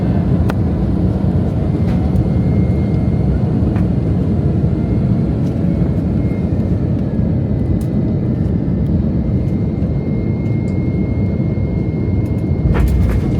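Passenger jet landing on the flight from LAX to Las Vegas, heard from inside the cabin as a loud, steady engine and airflow roar with faint clicks and rattles, and no talking.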